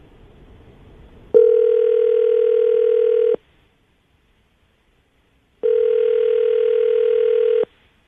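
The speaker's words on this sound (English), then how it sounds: "Let's see if we can get her on the phone." A radio host places an outgoing telephone call: two long, steady ringback tones of about two seconds each ring clearly in the handset, separated by a silent gap, with faint low noise before the first.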